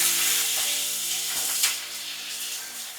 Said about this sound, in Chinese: 再翻面煎90秒，听着呲啦聲，隨着香味慢慢出來